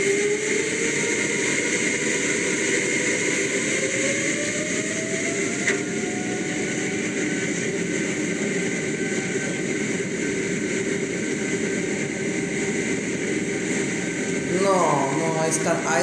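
A jet turbine engine spooling up: a steady, loud roar with a rising whine that climbs over several seconds, and a rattling burst near the end, heard alone.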